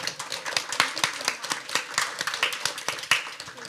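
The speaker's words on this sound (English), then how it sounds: "please give a warm round of applause to appreciate" Audience clapping for a conference panel on care services, sparse and uneven with individual hand claps clearly separated, a modest room rather than a big crowd.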